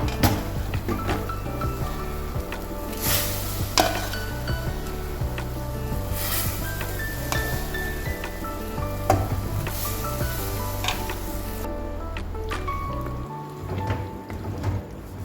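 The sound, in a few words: tapioca cooking and being stirred in bubbling masala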